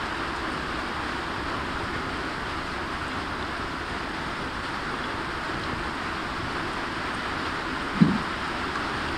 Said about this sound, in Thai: ฝนตกแรงแล้ว